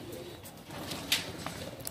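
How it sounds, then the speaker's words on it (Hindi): Madrasi pigeons cooing softly at dusk in a loft, a few faint coos and a brief bright flutter over a low steady background hum. "ये कबूतर जो अभी उड़े हुए जी"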